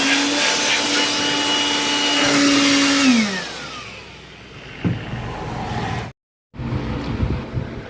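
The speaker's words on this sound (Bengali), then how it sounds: "এবার আমি এই হাওয়া মেশিন দিয়ে পরিষ্কার করে নিচ্ছি" A handheld air blower cleans the inside of an opened laptop with a loud, steady whoosh that winds down around three seconds, then brief bursts of blowing with a short cutoff near six seconds.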